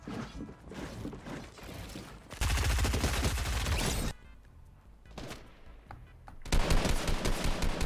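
Rapid bursts of automatic gunfire in a mobile shooter game, with dense rattling volleys broken by quieter gaps and mechanical clicks, loud and up close without any talk.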